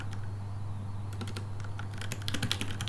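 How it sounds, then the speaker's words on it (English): Keys clacking on a computer keyboard in irregular bursts, sparse at first and then quicker and busier, close and moderately loud over a steady low electrical hum, with no talking. "Can I type? Oh, I can type too."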